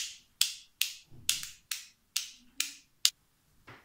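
Sharp clicks from a button on a plastic fidget cube, eight crisp snaps at a steady rhythm, close up and alone.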